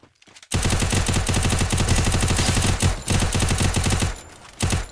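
An MP5 submachine gun in the Free Fire mobile battle game fires a loud, rapid, continuous burst lasting several seconds. It pauses briefly near the end, then resumes with a short final burst.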